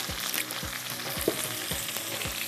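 Cauliflower frying in a pan, a soft continuous sizzle broken by regular low thumps of stirring, about five in quick rhythm, no voices.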